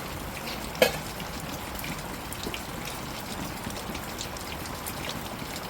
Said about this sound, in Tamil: நல்ல மழை.